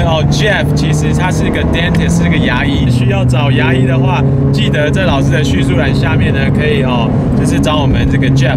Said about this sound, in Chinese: NA 的 engine 的引擎声特别好听